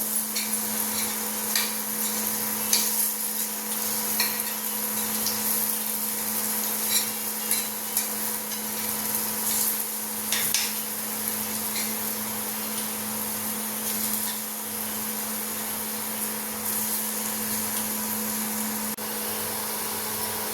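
Batter-coated potato slices shallow-fry in a pan with a soft, steady sizzle, a low hum running underneath and occasional light crackles and spatula taps throughout.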